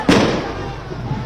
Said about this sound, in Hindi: पटाखों की ध्वनि भी हमें सुनाई दे रही है।